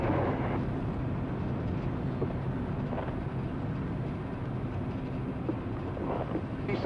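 Space Shuttle STS-65 engines roaring during ascent: a steady, dense, rumbling roar that never lets up, heavy in the low end, with a constant wash of noise and no clear speech.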